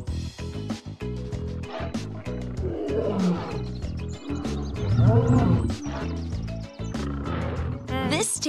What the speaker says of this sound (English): This tail belongs to a lion.